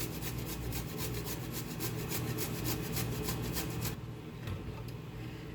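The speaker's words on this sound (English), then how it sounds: "I've already peeled the ginger, so I'm just gonna grate it with this." Peeled ginger rasps against the small holes of a grater in quick, even scraping strokes, close and steady for about four seconds before softening into lighter scrapes, with no talking.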